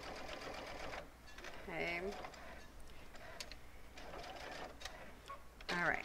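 A sewing machine stitches binding onto Cuddle Minky plush fabric, its steady mechanical whir running under a voice, with a brief pause before the motor resumes near the end.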